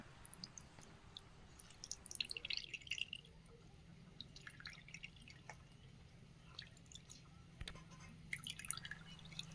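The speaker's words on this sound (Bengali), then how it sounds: "দেখুন একদম চিপে চিপে রসটা পুরো বের করে নিচ্ছি" Juice dripping through a strainer into a bowl as the pulp is squeezed by hand, a soft scattered patter of drops and wet squishes over a low steady background hum, close and faint.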